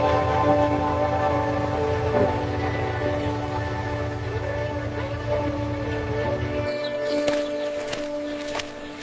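A train rumbles past in Patiya, Chattogram, Bangladesh, with a low steady drone and tonal hum, the rumble cutting off near the end, leaving sharp clanks and squeals.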